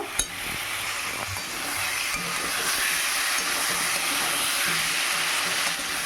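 Potatoes and cauliflower sauté in oil in a pan, a continuous loud sizzling hiss with an early clink of a utensil and faint scraping, no voices.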